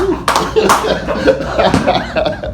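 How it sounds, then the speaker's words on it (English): An audience at a live radio show event claps in a brief scattered burst, with sharp hand slaps mixed with chuckles and a person speaking over it, close and loud. "But y'all can clap."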